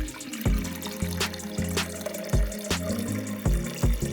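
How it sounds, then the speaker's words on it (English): Tap water running into a Soyabella nut milk maker jug, filling it to the line, heard alone with rhythmic clunks and splashes recurring about every half second. "Add water up to the line."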